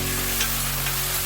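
Chopped tomatoes frying with ginger garlic paste for an egg pulao, giving a steady close sizzle with a constant low hum underneath, no talking.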